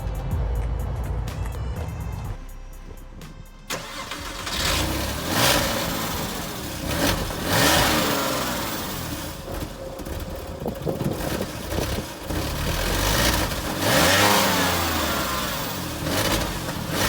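A forklift engine cranks and catches, then runs with a rough mid-pitched idle and several revving surges, close by and loud throughout.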